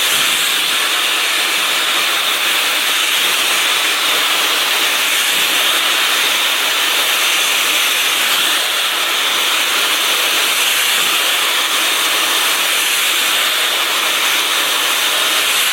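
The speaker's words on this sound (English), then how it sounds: "So let's go right into stretching and blow drying my hair." Dyson Supersonic hair dryer blowing over natural hair, a steady, loud broadband rush of air that runs unbroken for the whole stretch with no talking.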